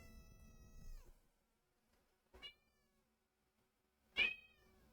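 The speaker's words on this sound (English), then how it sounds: "My cat's sharing their personal thoughts on the process." A house cat meows several times in a quiet room, a longer call at first followed by two short, sharp meows separated by silence.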